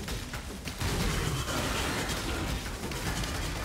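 Skill explosions in the video game Path of Exile make a dense, continuous wash of rumbling booms and crackling bursts that overlap without pause.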